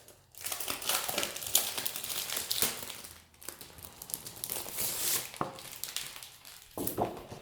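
Scrapbook paper sheets from an AB Studio collection are handled and shuffled close up, with crisp crinkling and rustling in long continuous stretches broken by a few brief pauses.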